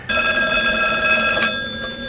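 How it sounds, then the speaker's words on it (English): A telephone rings loudly and close, one sustained electronic bell tone with no voices over it. "Ringing."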